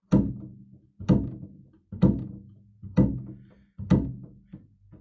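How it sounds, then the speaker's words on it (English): Five evenly spaced, punchy thumps from upright bass strings played through the string, each muted quickly so it pops and decays without sustain, close and clear. "you hear that wonderful thump, and I'll mute again with my left hand so you don't hear the sustain, you just hear that pop"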